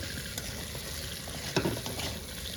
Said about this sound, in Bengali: আলুটা একটু ভেজে নিই পেঁয়াজের সাথে।